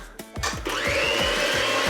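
An electric mixer beats an egg into cake batter for a coffee and walnut cake, a loud close motor whir that starts after a few clunks and settles into a steady rising hum with rhythmic churning.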